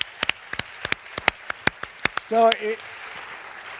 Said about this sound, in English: Yeah, so you can clap for that.